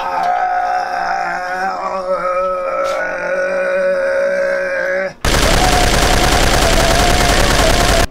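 A motor-driven scrap-metal prop machine gun from a Ugandan Wakaliwood action film set in Kampala, its barrels spinning with a loud, steady whirring drone that switches abruptly to a harsh, dense rattling roar partway through.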